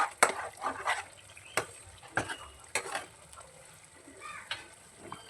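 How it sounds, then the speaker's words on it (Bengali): Spoon stirring spice masala in a wok over the heat while cooking chicken kofta: a few sharp scraping clacks at uneven intervals over a quiet background sizzle, with no talk. "ততক্ষণ আমি মশলাটা ভালো করে কষতে থাকবো"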